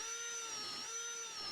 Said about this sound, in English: hand drill those holes deeper so they go through